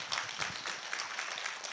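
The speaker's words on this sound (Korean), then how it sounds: "박수 받아도 될까요?" Faint scattered clapping from an audience at an investment-strategy lecture, soft and uneven, with individual claps poking through a low hum.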